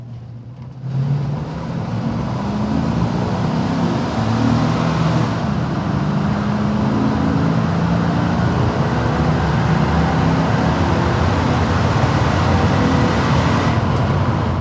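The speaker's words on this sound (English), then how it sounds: "We're warmed up, so we'll go ahead and get in the throttle here." A 2006 Chevrolet Silverado 1500 pickup with the 5.3 V8 and 20K miles accelerating under throttle, a steady loud engine and road roar heard from inside the cab, building slightly and holding continuous throughout.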